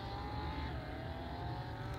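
A car's engine drones steadily while driving in the mobile game Şahin Drift, its pitch sliding slightly as it cruises, with no voices over it.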